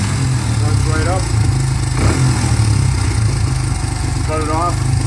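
A 2006 Honda CRF100F dirt bike engine runs at a steady idle after starting, a low, even putter held throughout with a faint chirp of other noise in the background.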